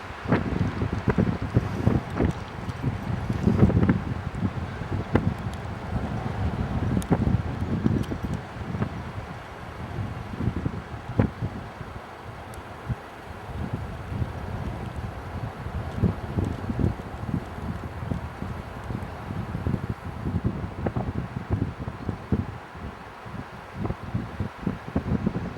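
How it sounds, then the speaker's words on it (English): Strong wind buffets a microphone high on an Irish mountain top by a military road, producing a loud, continuous roar with gusting surges throughout and no talking. "A little bit windy."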